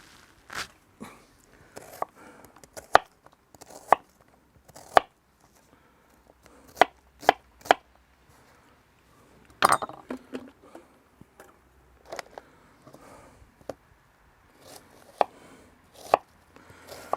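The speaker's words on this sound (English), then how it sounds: "I'm going to chop the onion a bit finer than I normally would" A knife chops an overwintered Snowball onion finely on a board, with sharp irregular thuds in quick bursts separated by pauses, close and clear against a quiet background with no voices.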